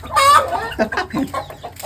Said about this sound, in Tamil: நம்ம கோழிங்க எல்லாம் எவ்வளோ ஆர்வமாக தீவனத்தை ஓடி ஓடி போய் சாப்பிட்றாங்க பாருங்க.